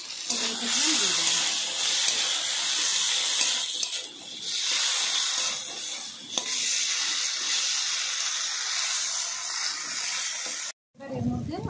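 Chopped tomato goes into okra cooking in a pan, bringing a steady hiss and sizzle of frying that runs throughout, with brief stirring and clatter and a short pause near the end.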